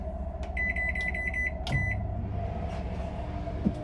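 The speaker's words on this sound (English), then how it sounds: "Microwave, air conditioner at the same time." A microwave oven runs off a rooftop solar setup alongside an air conditioner, giving a steady low hum with a series of high electronic beeps near the start and a brief clunk partway through, with no talk.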